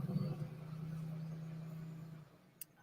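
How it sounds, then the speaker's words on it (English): A loud delivery truck passes outside, a low rumbling engine drone that holds steady for about two seconds and then fades out, followed by a faint brief knock. "it was a really loud delivery truck"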